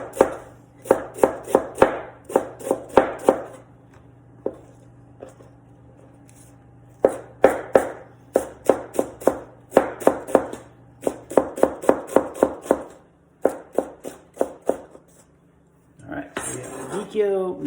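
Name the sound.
knife slicing radicchio on cutting board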